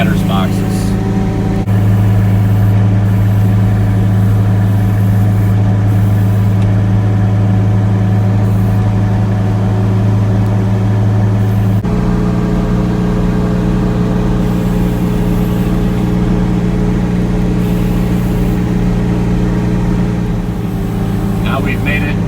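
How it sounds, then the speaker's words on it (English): A Kubota X1100C utility vehicle towing a greens groomer drives over a softball and baseball infield, floating and levelling the dirt. Its engine drones loud and steady, with pitch shifts as it works, while a voice talks over it throughout. "here's home plate, which we're driving right over home plate, filling in our batter's boxes"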